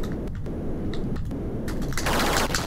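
A bomb blows up in the Williams arcade game Defender, bursts of loud harsh electronic crackle and noise, with a brief dense blast near the end.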